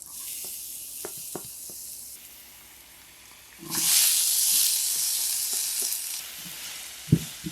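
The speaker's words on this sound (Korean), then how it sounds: "팬에 오일을 둘러주고 마늘과 양파를 넣으세요." Garlic and onion frying in oil in a pan, with a steady hiss of sizzling and a louder surge of spitting mid-way, plus scattered light clinks and stirring knocks.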